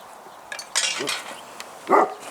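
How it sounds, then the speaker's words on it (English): A dog barks indoors during a kitchen session cleaning cast iron: two fairly close, sharp barks about a second apart, over faint background clatter. "Dog over here protecting us."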